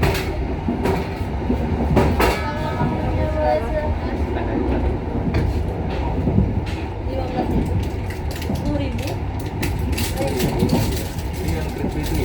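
Steady rumble of the Tegal Bahari economy-class passenger train rolling on rails between Jakarta and Cirebon/Tegal, rhythmic clacks and clicks throughout, with people chatting inside the carriage.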